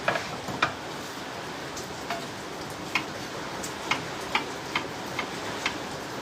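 A kitchen knife chops garlic and onion on a cutting board, producing quiet, crisp taps spaced irregularly about every half second over a soft background hiss.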